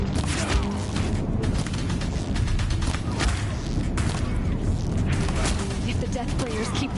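Death sprayers firing on a bridge in the game Horizon Zero Dawn, a dense continuous barrage of booming blasts and rumbling bursts that stays loud throughout.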